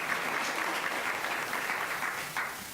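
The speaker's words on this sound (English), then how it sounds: "if we could keep the applause to a minimum" Audience at a school board meeting breaks into brief, dense applause, steady clapping for a few seconds that fades slightly toward the end.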